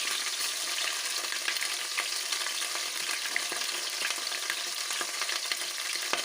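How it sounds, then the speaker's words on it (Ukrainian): Peppers fry in a pan over low heat, giving a steady, dense sizzle with scattered crackles and pops, close and even throughout with no talk. "І будемо обжарювати з обох сторон, ну, з щоб він хорошо обжарювався на маленькому огні"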